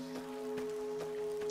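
Steady rain falls around the player in the Fallout: New Vegas wasteland, a soft, even patter layered over a quiet sustained tonal hum, faint throughout.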